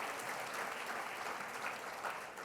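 Quiet applause from guests at a benefit evening, a soft and even wash of clapping that holds steady throughout and sounds fairly distant.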